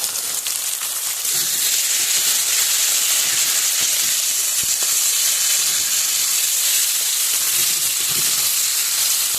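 Chopped tomatoes hit hot spiced oil in a pan, a loud, continuous bright hiss and sizzle with scattered crackles and pops, steady throughout with no voices.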